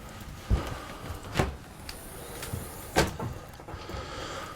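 A few wooden knocks and sliding scrapes as a cutlery drawer is pulled out and removed aboard a Rustler 42 sailing yacht, spaced irregularly in a quiet cabin.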